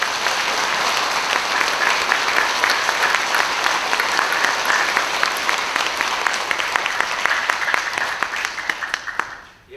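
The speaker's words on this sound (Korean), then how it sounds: "다 같이 열심히 준비한 분들을 위해서 박수 한번" A church congregation at a Christmas night Mass claps together for the people who prepared the celebration, a steady, dense round of applause lasting nearly ten seconds before cutting off abruptly.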